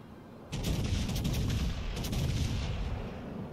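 Naval ship guns fire in a video game with a sudden sharp blast followed by rumbling salvo booms and crackling reports, loud and near, lasting a few seconds.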